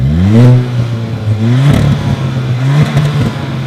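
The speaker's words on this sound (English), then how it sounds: "For instance, the turbocharged Veloster here, very nice exhaust sound." A turbocharged Hyundai Veloster hatchback revs up and down several times, its exhaust note rising and falling in pitch, loud and close with a throaty rasp.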